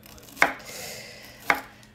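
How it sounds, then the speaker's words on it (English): Two sharp knife chops land on a cutting board about a second apart, close and crisp, with quiet room tone between them while Brussels sprouts are prepared. "That's why I'm cutting right now"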